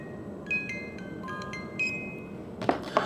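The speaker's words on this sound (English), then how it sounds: "There's a button on the back, and when you press that, and I'm going to do so, the music plays and the automation works on demand." A vintage Reuge musical alarm automaton pocket watch plays its tune, a few thin, bright plucked notes sounding close and delicate before small metallic clicks near the end.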